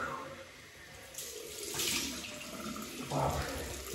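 Cold water runs from a tap into a sink during a wet shave, a steady soft splashing that swells and shifts in tone as the flow hits the basin, fairly close and alone.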